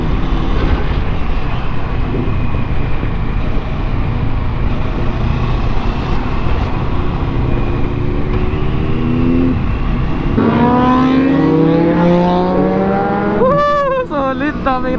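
A loud group of motorcycles roars past steadily on an invitational ride in Ilocos Sur, joined by a Kawasaki Versys 650, with engine pitch rising and sweeping near the end as bikes overtake.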